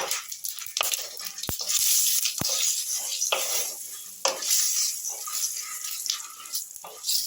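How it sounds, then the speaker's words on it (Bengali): Whole cumin seeds, bay leaf and dried red chilli frying in hot oil for a Bengali egg masala curry, a steady soft sizzle broken by sharp clicks of a spoon stirring against the pan, heard alone and close. "ফোড়নটাকে আমি খুব ভালো করে ভেজে নিচ্ছি।"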